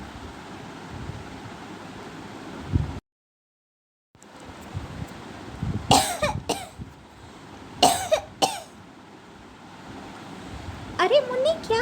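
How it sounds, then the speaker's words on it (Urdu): A young girl in a snowy region coughs in several harsh bursts, with gusty wind noise around them and a short silent gap early on. "پھر سے کھانسی؟"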